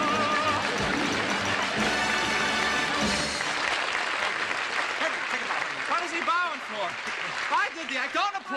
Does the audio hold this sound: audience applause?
yes